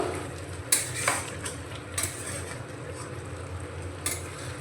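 A spoon stirs soybean curry with yogurt and garam masala in a pan, giving soft scraping strokes and a few sharp clinks against the metal over a low background hiss.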